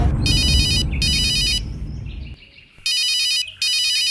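A telephone rings in a Tamil TV serial scene with bright, electronic double trills: two bursts, a quieter gap with faint background sound, then two more bursts, loud and close.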